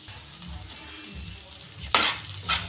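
Carrots frying in a pan with chilli powder being stirred in, a low sizzle with a sharp scrape and clink of a spoon against the pan, close and without speech.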